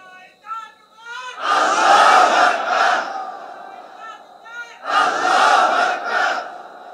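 A crowd of listeners at a Bengali Islamic sermon shouts slogans in unison in two loud, sustained bursts, with a single voice calling out briefly before each.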